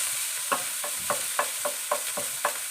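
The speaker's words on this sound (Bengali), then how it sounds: "দিয়ে একদম নাড়াচাড়া করে" Ginger and green chilli are stirred in hot frying oil, a steady sizzle broken by about seven evenly spaced scrapes of a spatula against the pan.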